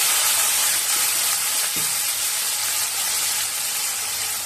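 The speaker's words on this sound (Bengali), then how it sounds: "নুন দেবো আর সামান্য হলুদ দিয়ে আলুটা ভেজে নেব" Sliced potatoes fry in hot oil in a pan, a loud continuous close sizzle with a faint clink partway through and no talk.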